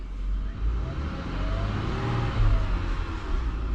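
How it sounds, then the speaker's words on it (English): A Ford Territory SX/SY engine fitted with a throttle controller revs up briefly, a loud close-up low rumble that builds and holds steady across a few seconds. "So I'm going to push on the throttle, it revs a bit easier."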